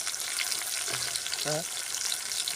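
A drumstick tamarind curry sautés in a pan with a steady, moderate sizzle, and a short voice passes briefly under the frying.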